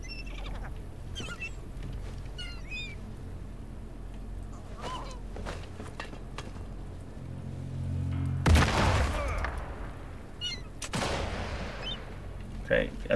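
Grenade explosion in the video game Sniper Elite 5: a loud broadband blast partway through, then a second burst a couple of seconds later, amid scattered gunfire and bird calls.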